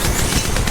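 A short, loud automatic gunfire burst from Apex Legends Mobile, rapid shots blurring into one dense crackling rattle with no speech.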